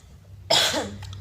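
A single harsh cough, close and loud, bursting out of quiet and trailing off quickly.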